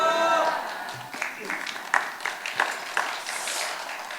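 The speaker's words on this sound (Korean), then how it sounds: "박수로 환영해 주셔서 감사합니다." A church congregation at a Korean Sunday worship service claps to welcome a pastor, a short round of applause that thins into scattered claps after a speaking voice at the start.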